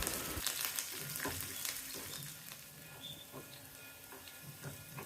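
Shallots and curry leaves fry in oil in which mustard seeds have already popped, for a Kerala red pumpkin erisery; a steady, close sizzle with scattered sharp crackles and pops runs throughout.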